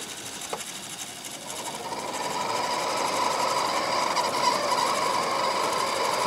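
Noisy cooling fan spinning up inside a computer running Windows 98 on an SSD, a steady whirring drone that grows louder after the first two seconds and holds close and constant.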